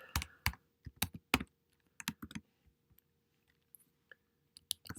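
Typing on a computer keyboard for data entry on a Mac, close, crisp clicks in irregular bursts of several keystrokes separated by short pauses, with no talking.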